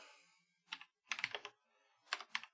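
Bursts of typing on a computer keyboard during a Minecraft session, fast clattering keystrokes in three short clusters separated by pauses, close and clear with no talking.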